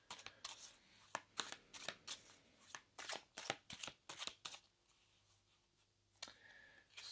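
Tarot cards shuffled and drawn during a pick-a-card reading: a quick series of crisp, close riffles and snapping card flicks, with a pause and then a final card pulled, over a faint low hum and no talking.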